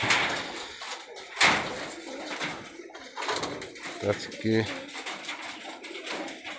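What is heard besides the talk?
high flyer pigeons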